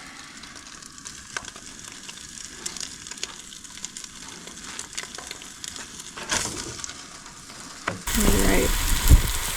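Hamburger meat fries in a hot pan during winter truck camping, giving a soft, steady sizzle with scraping as it is broken up. The sound grows louder near the end, and a voice says a single brief word.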